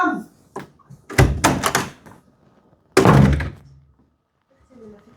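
A home door opens with a solid thunk and rattle, followed by a second heavy knock, with brief voices talking before and between the sounds.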